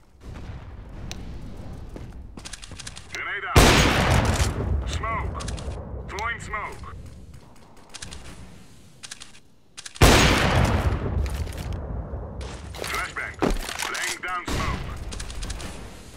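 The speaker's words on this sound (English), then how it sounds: "Deploying flashbangs." Flashbang grenades going off in Counter-Strike: Global Offensive on the Dust 2 map, two loud broadband blasts about six seconds apart, each trailing off amid gunfire, mechanical clatter and radio voice chatter.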